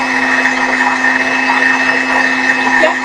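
A stand mixer whips hot marshmallow mixture in a kitchen, giving a steady, loud motor whir with a constant hum that never lets up.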